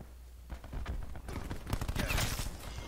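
Rapid bursts of gunfire rattle at a fairly low level in Call of Duty: Black Ops 4 on PS4, building from scattered shots into a denser volley of game weapons.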